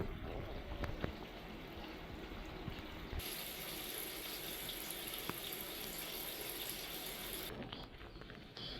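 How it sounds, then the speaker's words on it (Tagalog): An automatic washing machine fills its drum with water from an open tap, a steady hiss of running water with faint mechanical clicks, close and continuous throughout. "nagpupuno pa siya ngayon ng tubig"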